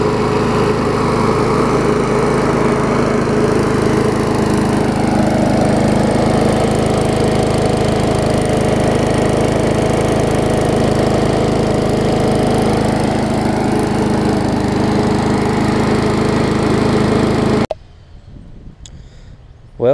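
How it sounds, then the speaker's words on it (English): Old Murray push lawn mower engine, revived after years unused, running loud and steady close by for most of the time before cutting off abruptly near the end. "I'd say not bad for a mower that hasn't run in a few years."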